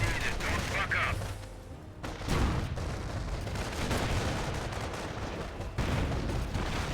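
Artillery barrage in the real-time strategy game Company of Heroes, repeated heavy booms and blasts rolling one after another with gunfire mixed in, loud and dense throughout with short breaks between volleys.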